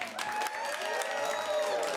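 Polite applause from an improv comedy audience voting for a film, a steady wash of clapping with scattered voices throughout.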